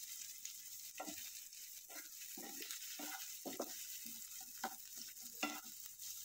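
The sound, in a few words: onion added to hot oil, sizzling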